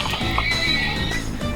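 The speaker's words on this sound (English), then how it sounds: "Who could do such a horrible thing to my beloved horse?" Minecraft horse whinnying loudly with clip-clop hoofbeats in a blocky game world, the neigh rising and falling over steady footfalls, no talking.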